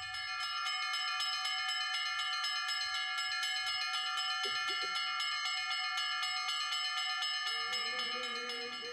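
Church bells at a newly built cemetery church in Sergach ring continuously in a loud, sustained peal with layered overlapping tones, and a brief softer sound enters near the end.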